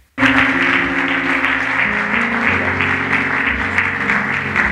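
A church congregation claps in a dense, continuous burst of applause that holds steady throughout, with sustained music playing underneath.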